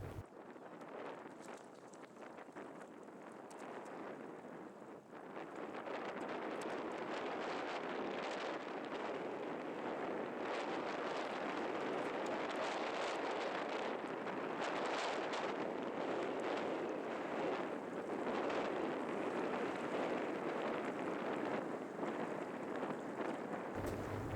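Strong wind blowing outdoors at a desert reservoir in Oregon, a loud, continuous roar buffeting the microphone that builds after a few seconds and stays heavy for the rest.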